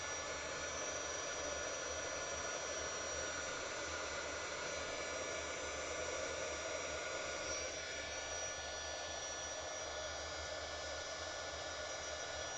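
Steady, loud roaring blow of a heat embossing tool melting powder on resin coasters, running unbroken close up with a faint whine on top and no talk.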